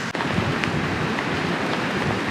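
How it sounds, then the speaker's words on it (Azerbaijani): Heavy rain pours down at a campsite in Laçın, a dense, steady hiss of drops close by, with no voices. "yağış da normal yağış deyil. Bir damcısı 1 litrdir."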